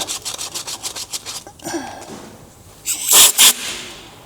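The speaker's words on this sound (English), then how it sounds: "just got to give it a good sanding, clean the surface rust off it first" Surface rust is sanded off the metal of an HQ car in quick, rhythmic back-and-forth strokes, close by. After a short pause come a few louder, harsher scrapes.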